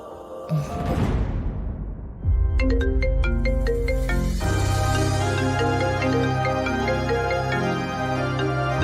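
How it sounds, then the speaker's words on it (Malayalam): A mobile phone rings indoors in a domestic TV drama scene. A brief rustling sweep comes first, then a loud, repeating melodic ringtone plays on steadily. "ആ ഫോൺ വന്നപ്പോ സച്ചേട്ടനാകെ ടെൻഷനായല്ലോ."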